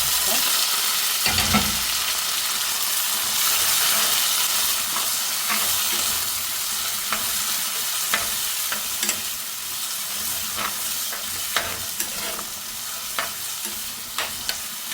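Tomato and green chilli hitting hot oil with ginger and garlic in a pan for a fish curry, a loud continuous sizzle with scattered crackles and pops and occasional scraping stirs, no talking over it.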